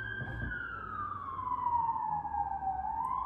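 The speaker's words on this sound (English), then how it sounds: "Got another siren, all right," A wailing emergency siren sweeps slowly down in pitch and starts to rise again, steady and moderately loud with road rumble underneath.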